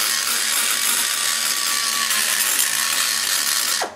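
A power tool grinds steadily and loudly to trim the combustion chamber of a ProMaxx 200 Stage IV cylinder head. The harsh whine stays even for about four seconds, then cuts off at the end.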